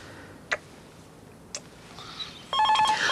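Telephone starts ringing near the end with a bright, warbling electronic trill, after a couple of faint clicks over a quiet room hum; no talk.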